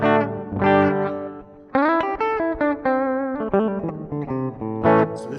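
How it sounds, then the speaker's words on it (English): Les Paul electric guitar played with Hall of Fame reverb and no amp, clean chords and single notes ringing out with a spacious reverb tail, close and fairly loud. "So this is the sound of this Les Paul with nothing on it except for some Hall of Fame reverb."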